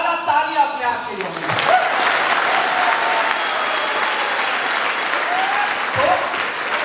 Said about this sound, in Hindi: एक बार ज्यादा ताली अपने आप के लिए।